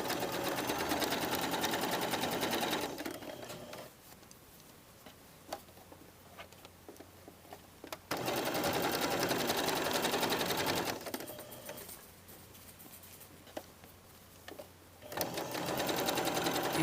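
Sewing machine stitching the hem of a jacket, quiet rapid mechanical ticking in bursts of a few seconds, with near-silent pauses between runs as the fabric is repositioned.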